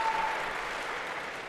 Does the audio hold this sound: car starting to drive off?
no